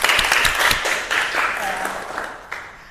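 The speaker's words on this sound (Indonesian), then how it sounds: "Tepuk tangan dulu dong." Applause from a small group during a talk session about student club leaders, a short burst of close clapping that fades over a few seconds, with someone speaking over it.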